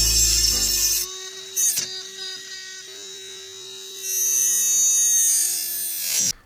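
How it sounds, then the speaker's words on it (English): A Dremel rotary tool grinds at the dust cap on a Ford Fiesta wheel, a steady high whine holding one pitch at close range, broken by brief bursts of louder grinding contact near the start and end. "I need a Dremel tool to essentially grind away at the dust cap"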